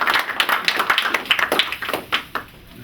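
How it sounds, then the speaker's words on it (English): Audience claps for an award recipient at a staff recognition gathering, a dense run of close hand claps that thins out and tapers off toward the end. "So big round of applause for Adele and a Hall of Fame."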